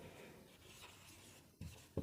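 Marker or chalk writing the word 'diminished' on a board during a physics lecture on convex lens image formation, a faint scratchy stroke followed by two short taps.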